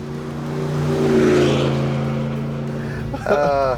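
A Ram truck fitted with a loud Gibson split exhaust kit revs up, its deep engine drone swelling and holding steady close by, with a brief voice cutting in near the end.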